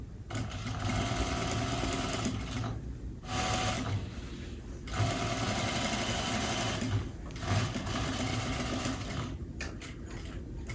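A sewing machine stitches a welt-edge pillow, switching from basting to a secure stitch, in a rapid mechanical chatter that runs in bursts with brief pauses between them, close and fairly loud, with no talking.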